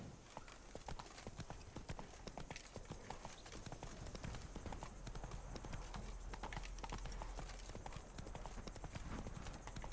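Roach, a horse in a video game, gallops with steady, rapid clip-clop hoofbeats that run continuously and fairly close, a faint voice now and then underneath.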